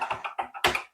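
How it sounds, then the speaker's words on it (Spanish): A computer keyboard clatters through a second of quick typing, several bursts of keystrokes close and fairly loud, while a laptop running Linux serves as a tape player for a Dragon computer. "Me estoy liando aquí con el teclado"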